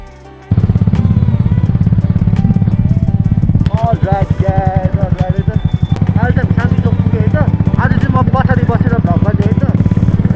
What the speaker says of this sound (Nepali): कस्तो टर्निङ ओभरटेक गरे क्या बाइकले कस्तो रसमा कुदाउँछ यार